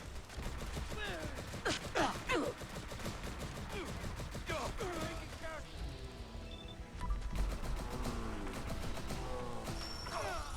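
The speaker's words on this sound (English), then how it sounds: "It looks like the beam that we're firing is very much akin to that of an Assaultron beam" A makeshift zap gun laser weapon in Fallout 4 fires a sustained crackling beam burst, heard as a steady buzzing pulse beneath someone talking throughout.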